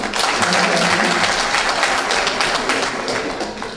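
Crowd at an investiture ceremony for the president of the Union of Ivorians in New York applauding, dense sustained clapping that stays loud and even, with faint voices underneath.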